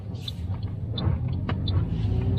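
A manual car's engine rumbles low and steady from inside the cabin as the clutch is eased out under light throttle, with sharp ticking clicks repeating at regular intervals over it.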